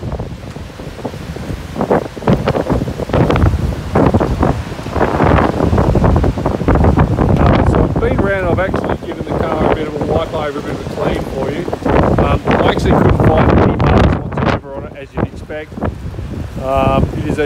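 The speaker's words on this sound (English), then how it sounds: "I do apologise for the wind, very," Strong gusty wind buffeting a microphone outdoors beside a 2023 Hyundai Venue, a loud continuous rumble and roar throughout, with someone talking over it.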